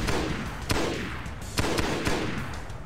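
Repeated gunfire in the Halo SPV3 video game, with sharp shots arriving in uneven bursts about every half second over a dense, loud backdrop of combat noise.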